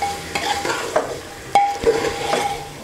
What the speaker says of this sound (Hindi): सारी सामग्री को मिक्स करने के बाद मैं इसमें नमक ऐड कर रही हूँ, इसे भी मैं अच्छे से मिक्स कर लूँगी